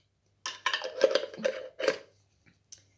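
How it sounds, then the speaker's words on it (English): Olive oil and sesame seed oil stirred together in a pan, a spoon scraping and clinking against the metal in several short bursts over about a second and a half, close and fairly quiet, with no talking. "give that a stir around, combine those together"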